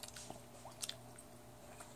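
Bubble gum being chewed close to the microphone, soft wet squishes and a couple of sharper clicks over a quiet background.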